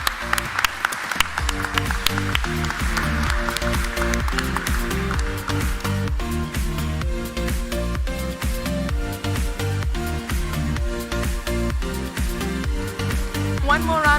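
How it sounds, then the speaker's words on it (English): An audience at a student architecture awards ceremony applauds students with steady clapping, strongest at the start, while music plays throughout. "And let's give them a big round of applause."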